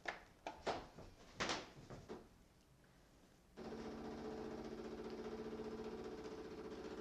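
A Tassimo T45 coffee machine brewing a T Disc: a few brief clicks and clunks of the lid closing, then a steady, fairly quiet pump drone with a faint rattle that runs unbroken to the end.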